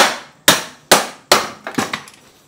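Hammer blows on tractor side rails: three sharp, loud metallic strikes about half a second apart, then a cluster of quicker, lighter taps that fade out.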